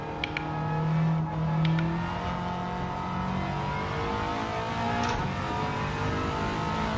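A modified race car in the Gran Turismo 7 video game revs and accelerates. The engine tone is steady and moderately loud and rises in pitch, with no talk over it.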